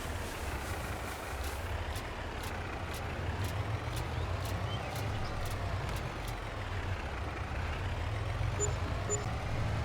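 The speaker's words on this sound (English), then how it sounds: "If I can get the brakes to work on the truck." A truck driven in the video game Farming Simulator 22, its engine rumbling steadily with regular clicking ticks across the first half.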